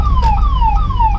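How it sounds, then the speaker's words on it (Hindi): An ambulance siren stuck in Delhi traffic wails loud and close in a rapid repeating downward sweep, cycling about three times over steady road rumble. "मैं आपको दिखाऊं एम्बुलेंस फंसी हुई है"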